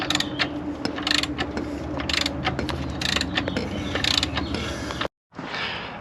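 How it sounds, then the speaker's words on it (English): A 19mm socket and ratchet turn an engine crankshaft by hand through several revolutions, giving repeated close clicking and creaking mechanical sounds, ending in a brief silence before the turning resumes. "let me throw our 19mm socket on that crank. Let's go through a few revolutions"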